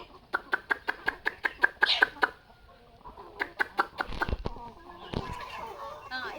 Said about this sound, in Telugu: మా కోళ్ళు అయితే పిలవగానే వచ్చేస్తాయి చూడండి